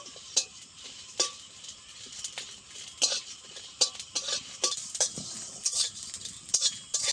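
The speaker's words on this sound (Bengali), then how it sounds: "মশলাগুলো আমি ভেজে নেব" Whole spices frying in oil in a pan while being stirred, making a bright sizzle broken by irregular scraping and clinking strokes of a utensil against the metal, close and moderately loud.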